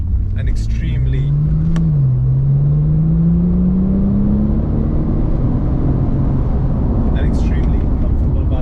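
A Porsche Turbo accelerates in third gear with a loud, continuous engine drone whose pitch climbs steadily and dips briefly once. Dense road and wind rumble sits underneath, with occasional faint clicks.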